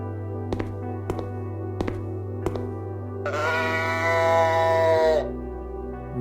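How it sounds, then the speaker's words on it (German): A mooing teddy bear toy in the video game The Uncertain. Several short clicks come first over a low steady hum, then one long, loud, tonal electronic moo rises for about two seconds before stopping. "Ein muhender Teddy"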